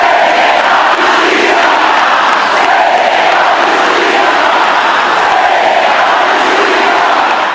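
A huge crowd at a Brazilian political rally chants in loud, rhythmic, repeated phrases, a dense wall of voices sustained throughout without a break.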